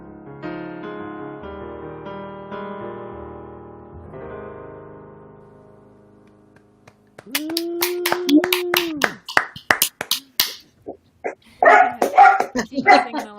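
A dog howls and then barks repeatedly along with a sung song; the music plays alone at first, then a rising, sustained howl gives way to a run of sharp, close barks.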